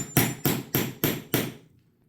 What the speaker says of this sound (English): you don't have to have a fancy rivet press, just a hammer and a little impactor